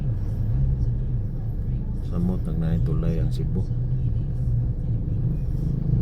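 Road traffic in Bohol heard from inside a vehicle: a steady low engine and road rumble runs throughout, with a person talking over it partway through.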